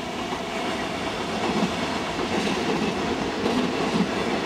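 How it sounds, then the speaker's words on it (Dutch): Two coupled DB class 420 electric multiple units pass by steadily, a continuous rumble of rail noise with faint rhythmic clicking of wheels over joints, loud and close with no voices. "Twee treincellen uit de serie 420."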